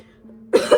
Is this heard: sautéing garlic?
no